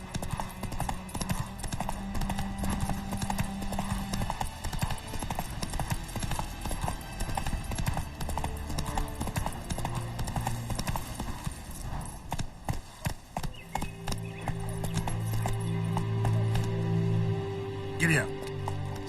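Horse hooves clip-clop in a steady, close rhythm throughout while people talk and urge the animal on.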